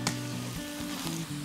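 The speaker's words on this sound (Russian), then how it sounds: "К луку добавляем морковь и обжариваем до мягкости, до прозрачности." Chopped onion and carrot sizzle steadily in oil inside a cauldron at the start of a borscht, a close, even frying hiss with a brief stir partway through.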